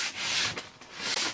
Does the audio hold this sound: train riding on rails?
no